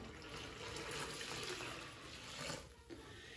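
One litre of water is poured onto chickpea flour for karantika, a steady close splashing and trickling stream that runs continuously, then tapers into a few drips near the end.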